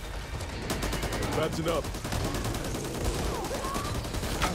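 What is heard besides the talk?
gunfire in the video game Back 4 Blood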